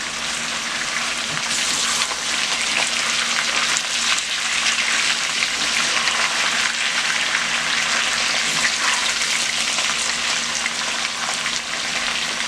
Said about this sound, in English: So the other side has been frying.